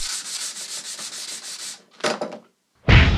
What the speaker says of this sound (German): Jetzt mit unserer neuen Weber Nassschleifmaschine.